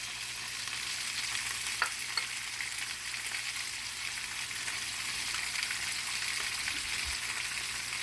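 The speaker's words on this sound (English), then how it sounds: "I'm also going to drop some of my butter in here" Butter sizzling with lamb chops in a cast iron pan: a steady, fairly loud frying crackle with occasional pops and utensil taps, no talking.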